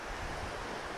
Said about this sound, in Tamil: இந்த கடல் அலை ரொம்ப கம்மியாக இருந்ததுன்னா